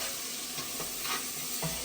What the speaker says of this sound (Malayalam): നെയ്യിൽ കിടന്ന് തക്കാളിയൊക്കെ നന്നായി വെന്തിട്ടുണ്ട് കേട്ടോ